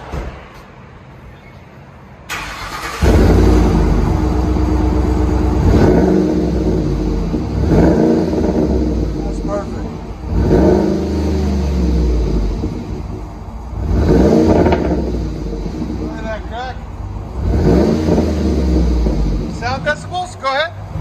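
Ford Expedition with a 5.4L V8 and its muffler removed, revving loudly and repeatedly in deep rumbling bursts, with a quieter idle between revs; voices talk over parts of it.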